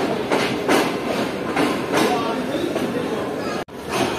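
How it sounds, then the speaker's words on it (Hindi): Karachi Express pulling out of platform one at the station, a steady rumbling roll with rhythmic clacks of the wagons over the rails, continuous and close. "तो प्लेटफॉर्म नंबर 1 को अलविदा कह दिया ट्रेन ने।"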